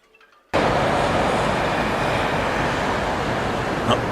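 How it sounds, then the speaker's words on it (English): An aeroplane passes overhead near a cruise port, a steady loud broadband roar that starts abruptly after a brief quiet moment and holds constant throughout, with no talk. "Oh, it's an aeroplane."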